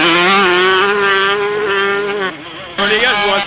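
A 125cc two-stroke motocross dirt bike rides hard on a southern trail, its high-pitched engine wailing loudly and steadily, dipping briefly as the throttle is rolled off, then screaming back up alone.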